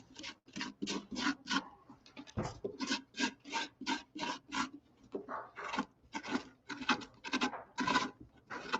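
A carving tool scrapes out the inside of a pumpkin in close, rhythmic strokes, each scrape a short raspy rub repeating steadily, with no talking.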